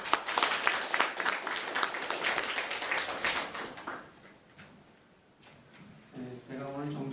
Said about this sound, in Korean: 재 교수님 발표해 주시는 데 대해서 박수 한번 보내주시면 됩니다